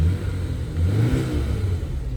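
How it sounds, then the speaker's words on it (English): A new BMW 5 Series engine revs up from a low rumble, heard from the front of the car, rising and holding with a throaty roar, loud and close, with no voices. "Here's how the car sounds revving from the front."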